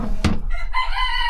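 A rooster crows close by on a farm with Australorp hens, a loud, clear call rising sharply and then holding a strained, drawn-out note to the end of the short clip.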